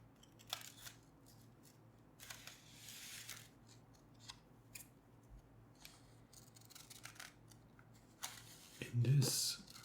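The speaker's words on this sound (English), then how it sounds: "I'm gonna have to cut the wrapping paper a little bit" Scissors snip through wrapping paper for a holiday gift in a quiet close-up setting, with several short crisp cuts spaced apart and a louder burst of rustling near the end.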